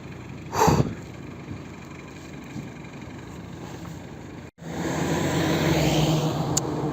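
A car stuck in snow has its engine running with a steady low drone, then after a brief cut it revs up into a louder, sustained strain.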